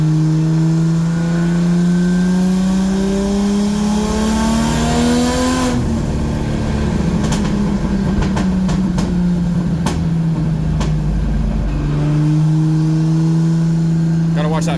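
A drift car's engine revs while warming up, holding a steady loud idle that climbs into a sustained rev, then drops back to idle, all close and loud.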